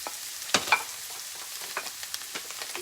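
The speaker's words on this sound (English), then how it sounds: "Let that sort of saute." Curry leaves and onion sautéing in a pan for hariyali chicken, a soft continuous sizzle with a couple of sharp pops and scrapes of stirring early on, moderately quiet with no talking.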